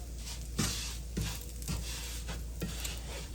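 Food for chicken alfredo cooks in a pan with a steady low sizzle, broken by soft, regular scraping stirs about every half second, close and fairly quiet, with no talking.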